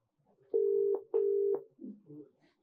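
A phone line tone plays while a call is being placed, two long steady beeps in a row, each close and clear, followed by fainter, softer tones.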